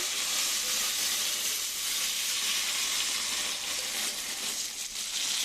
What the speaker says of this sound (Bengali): বেগুনটা কষিয়ে নিচ্ছি